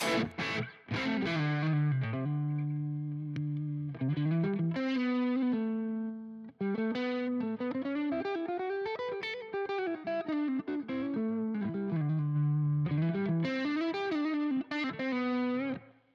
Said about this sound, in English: So we've got distortion on the 2 or 1B, and the 1A we've got crunch.